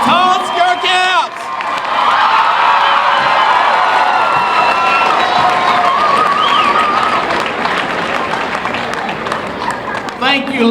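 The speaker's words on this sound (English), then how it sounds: "Let's congratulate our graduates with another round of applause." A large crowd at a high school commencement ceremony claps and cheers loudly and continuously, with shouts and whoops rising above sustained applause for about ten seconds.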